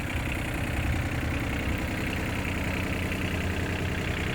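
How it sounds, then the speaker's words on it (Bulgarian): A 2018 Yanmar AF160 three-cylinder diesel tractor, 16 hp with 4x4 and a rotary tiller, idles steadily up close, with a continuous low rumble and no other sounds. "В момента двигател работи."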